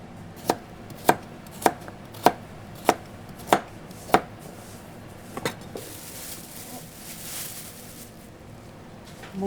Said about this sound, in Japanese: もも肉をカット細かく切ります。